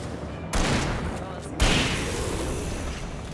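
Two loud, close shotgun blasts from Alan Wake, about a second apart, each a sharp crack that leaves a long booming decay under game ambience, with a voice talking nearby.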